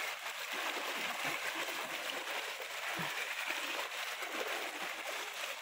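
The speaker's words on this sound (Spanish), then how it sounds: "El desbordamiento del río Lagartero ha provocado el incremento del nivel del agua en las calles." Floodwater from the overflowing Lagartero river rushes through town streets, a dense, steady roar of running water with faint splashes, continuous and close throughout.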